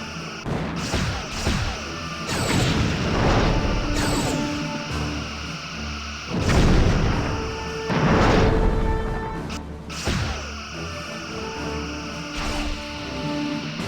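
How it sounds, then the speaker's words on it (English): Torpedoes launching in the Star Trek Bridge Commander space combat game, a series of heavy booming blasts and crashing impacts with rumbling tails, loud and close against a steady electronic bridge hum. "Lining up forward torpedo tubes."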